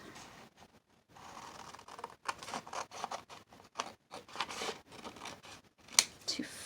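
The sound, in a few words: trimming a paper card for a junk journal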